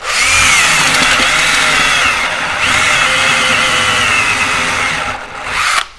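A cordless power saw cuts steadily for about five seconds, with a loud, close, continuous whine that has a brief dip in the middle and then stops at the end.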